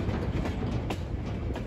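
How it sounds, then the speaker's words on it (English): A goods train rolls along the Great Central Railway, a loud, close, continuous rumble of wagons with faint clicks of wheels over rail joints. "He's guarding a goods train here"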